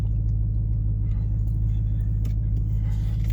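A Dodge Durango rolls along the road, its engine a steady low drone with constant tire and road rumble heard from inside the cabin, with occasional faint knocks and bumps over the surface.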